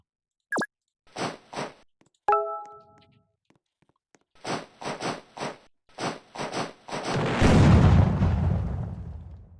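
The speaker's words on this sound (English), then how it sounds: "May need to turn down the volume because there's going to be a lot of explosions." Explosions and gunfire in the combat video game Noobs in Combat: scattered sharp pops and thuds, then a loud rumbling blast that lingers to the end, with no talking.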